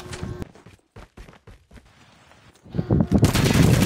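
Gunfire in Call of Duty Mobile comes in sharp bursts of rapid shots, the first near the start, then scattered pops, before a dense loud volley at the end.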